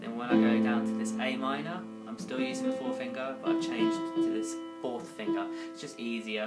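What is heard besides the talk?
No everyday noises stand out.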